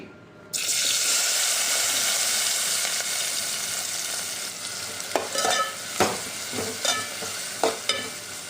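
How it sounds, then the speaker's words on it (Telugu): Onion and green chillies drop into hot oil in a pan with a sudden loud sizzle that holds steady, while a spoon scrapes and taps the pan several times toward the end; no one speaks. "ఇప్పుడు ఉల్లిపాయ పచ్చిమిర్చి వేసుకుని ఫ్రై చేసుకోవాలండి"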